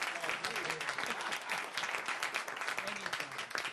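Audience applause fills a lecture hall after a Brazil history talk, a dense, steady patter of many hands clapping at moderate loudness throughout, close and continuous.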